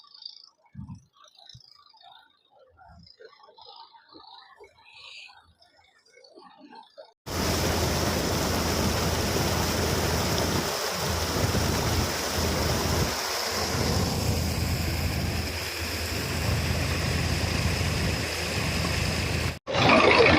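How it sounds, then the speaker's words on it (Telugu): A large engine pumps out floodwater near tower blocks during breach repair work. Quiet outdoor ambience with faint birds suddenly gives way to a loud, continuous, close roar that holds steady to the end. "ఇలాగా ఇవి వచ్చేసి పెద్ద ఇంజిన్ అయితే తోడుతున్నారు"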